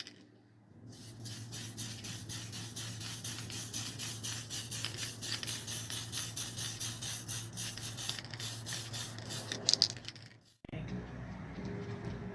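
Translucent orange spray paint hisses inside an Axial Scorpion RC body, a close, steady aerosol spray in rapid pulses for about ten seconds before cutting off.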